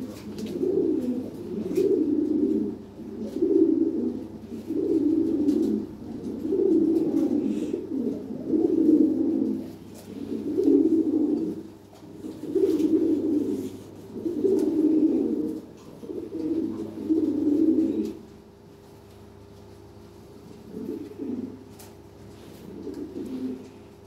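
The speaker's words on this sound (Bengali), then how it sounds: "বিগ সাইজ কবুতর।" Lahori pigeons cooing nearby in a repeated series of low, throaty rolling coos at a steady pace, growing quieter and sparser toward the end.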